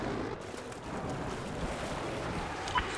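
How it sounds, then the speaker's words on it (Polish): Jet ski skimming across open water in Battlefield 4 on the Hainan Resort map, a steady close engine drone blended with splashing water and wind rush, continuous with no talk. "Dobra, to ja biorę motorówkę i płynę."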